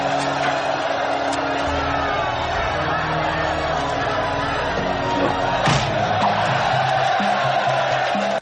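A film crowd cheers and shouts around a stick fight, where people wave money: a dense, continuous roar of voices with a few sharp hits and yells rising out of it across several seconds.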